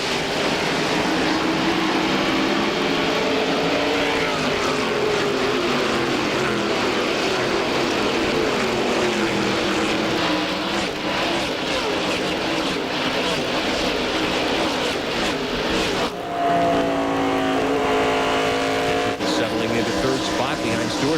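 A pack of NASCAR Busch Grand National race cars at Rockingham roars away at the green flag in a 1997 race, a loud sustained engine drone with rising pitch under continuous commentator talk.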